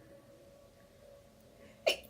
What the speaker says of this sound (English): Cute sneeze, sorry.